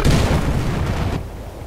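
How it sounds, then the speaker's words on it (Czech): Gunfire and explosions in a Battlefield: Bad Company 2 multiplayer match, a loud, dense barrage of booming shots that cuts off sharply near the end, leaving a quieter rumble. "kdo po mě střílí"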